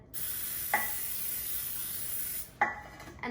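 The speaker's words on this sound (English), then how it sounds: "we're going to spray our pan" A can of cooking spray hisses in one long, steady burst onto a baking pan, with a click at the start and a clatter afterward.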